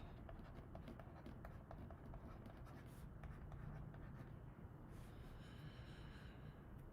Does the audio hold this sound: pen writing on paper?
yes